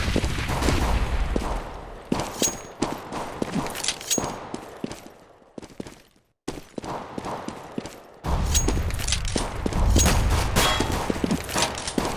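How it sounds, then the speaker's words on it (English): Rapid bursts of Counter-Strike: Global Offensive gunfire mixed with flashbang and smoke grenade pops and footsteps during a professional NiP versus Planetkey Dynamics match, loud and dense, with a brief near-silent gap in the middle. "Throwing the flashbang!"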